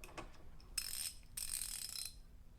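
A Wera Zyklop ratchet loaded to 156 foot-pounds gives off two bursts of close, bright mechanical clicking, split by a short pause, with no talk.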